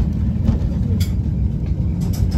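A Christchurch city tram runs steadily with a continuous low rumble and faint rattles, close by and fairly loud, with no talk over it.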